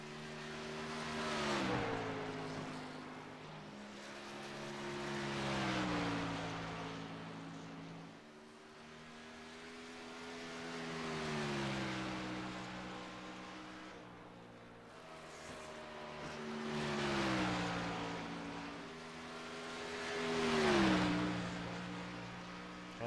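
A number 93 Ford Mustang race car in a racing game at Dover roars through repeated laps, its engine rising and falling in long swells as it accelerates and shifts, with no one talking.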